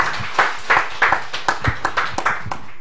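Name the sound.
church congregation applauding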